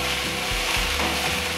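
Salted broccoli stirred in a large pot, giving a steady close scraping and rubbing sound with a few heavier low knocks, continuous throughout with no talking.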